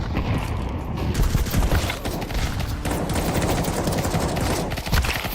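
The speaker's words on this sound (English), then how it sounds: "Throwing fire. Throwing a grenade. Throwing flashbang." Counter-Strike 2 match with grenades and a flashbang thrown amid dense, continuous gunfire and bursts of explosions, loud and busy throughout with no pauses.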